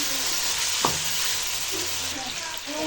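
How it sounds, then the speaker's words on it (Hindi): Chicken fries in a pan with aloo nearby, a dense constant sizzle with a brief scrape of stirring near the start, close and unbroken by speech. "अब चिकन को भी हमें तकरीबन 15 मिनट फ्राई करना है ताकि इसका बहुत ही खूबसूरत सा अच्छा सा गोल्डन ब्राउन कलर आ जाए चिकन का भी"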